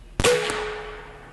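One Umarex AirSaber Elite X2 air rifle fires a sharp, loud report at close range, followed immediately by a metallic ring from the hit target that fades out over about a second.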